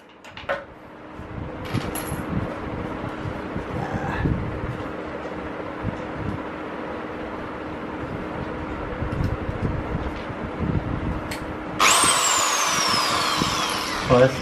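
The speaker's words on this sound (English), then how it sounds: "So at home I have this drilling." An electric drill bores a hole into a Honda CB350RS motorcycle front fender over scattered handling noises, with a loud high whine rising near the end.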